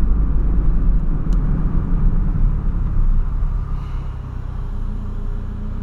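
A 2009 Ford Ka engine idles as a steady low rumble close by, swelling slightly as the accelerator is pressed, with no talk over it.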